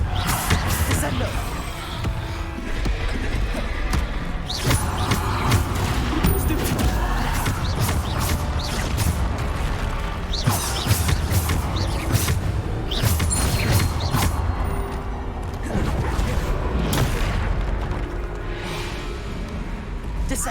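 Descendo spell casting in Hogwarts Legacy, amid busy combat effects: repeated whooshes, crashes and sharp impacts over a constant rumble, with game voices mixed into the dense, ongoing action.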